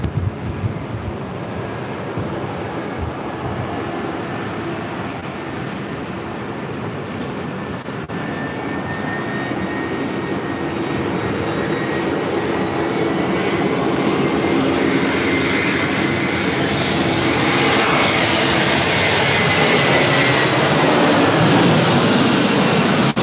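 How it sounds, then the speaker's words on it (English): A Delta Airlines Airbus A321 arriving on the north side at LAX airport, a continuous jet engine roar that swells steadily louder as the airliner approaches, mixed with wind rumble and no talk. "Next arrival here on the north side is Delta Airlines flight 831 coming from Minneapolis on an A321."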